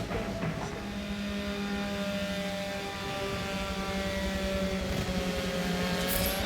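Race cars roaring around the Long Beach street circuit in Forza Motorsport 7, a dense, steady engine drone with layered revving tones from several cars at once, loud and continuous throughout with no talking.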